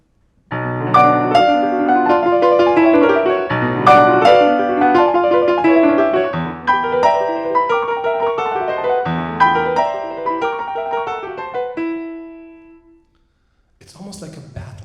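Solo piano plays a dense passage from Liszt's Sonata in B Minor with two interwoven motifs, busy and loud, before ending on a held note; a brief noise follows after a short pause.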